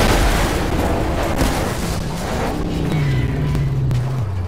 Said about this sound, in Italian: bombe di destra e sinistra